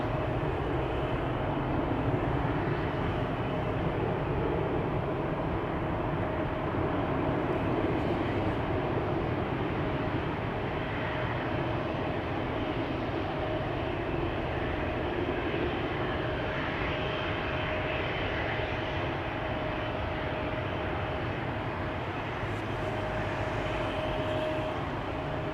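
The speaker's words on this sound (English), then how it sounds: "wheel sounds indicating spooling up of the geared turbofan engines." Geared turbofan engines of a KLM Embraer 195-E2 spool up at Amsterdam Schiphol Airport, a steady broadband roar with a sustained whine that holds loud and even throughout, with no voices.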